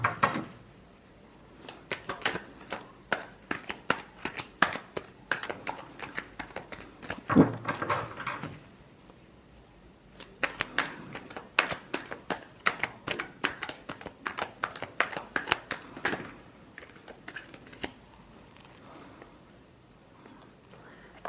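Tarot cards riffled and shuffled by hand in repeated quick bursts of crisp flicking and patter, separated by short pauses, close and fairly quiet with no talking.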